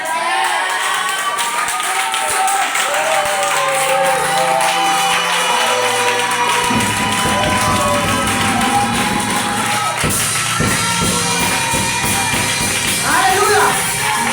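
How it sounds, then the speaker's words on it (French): A church congregation at a Sunday evangelism service stands up and applauds and cheers, giving a dense, loud crowd wash of clapping and voices, with a preacher speaking over it at times. "je veux qu'on se lève et qu'on acclame Jésus"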